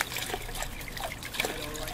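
Water trickles and drips from a washing machine in the video game The Crooked Man, a soft continuous wet patter with small splashes, heard alone at moderate loudness.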